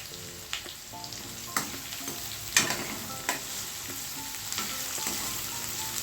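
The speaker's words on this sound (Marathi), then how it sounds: "आता हा कांदा आपल्याला सोनेरी रंग येईपर्यंत शिजवून घ्यायचा आहे" Finely chopped medium onion frying in a pan for a Maharashtrian potato curry, with a continuous sizzle broken by several sharp spoon scrapes and taps against the pan, close and fairly loud.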